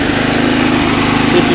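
A 1959 David Bradley Suburban walk-behind tractor's small engine runs steadily and loudly up close, a continuous buzzing drone with no pauses.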